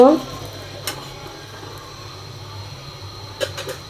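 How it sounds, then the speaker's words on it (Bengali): Bread fries lightly in a little oil, giving a faint, steady sizzle with a few soft utensil clinks, and no speech is heard over it. "তো হালকাভাবে রুটিটাকে আমরা ভেজে নিব।"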